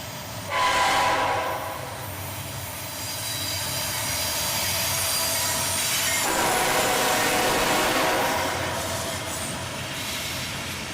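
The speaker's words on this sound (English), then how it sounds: "Just a long double stack train coming underneath the highway overpass." A long double-stack intermodal freight train led by a CM44 AC rebuild and a Dash 8 passes under a highway overpass. It rumbles loudly with squealing wheels, and its horn sounds clearly near the start and again midway.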